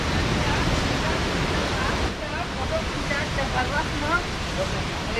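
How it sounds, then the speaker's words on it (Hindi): Continuous rushing water noise, a broad steady wash of a stream feeding Jatmai Waterfall in Gariyaband during a 2022 flood, with faint outdoor sounds mixed in. "पानी आ रहा है, यही स्रोत होके आगे जाके वाटरफॉल में कन्वर्ट होता है"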